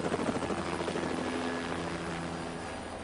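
Helicopter bearing Urat markings flying, a steady loud rotor drone with rapid chopping beat and broadband engine rumble, continuous and close throughout, slightly fading toward the end, with no voices.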